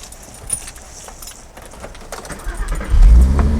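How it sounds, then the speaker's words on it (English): Keys jangle briefly, then the VR6-swapped engine of a Volkswagen Beetle cranks and catches with a low rumble that swells to a steady idle, up close. "you can turn this car on"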